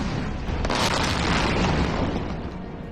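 Heavy explosions from US airstrikes bombing Iran near the Strait of Hormuz form a sustained, loud, rumbling boom lasting several seconds with no speech.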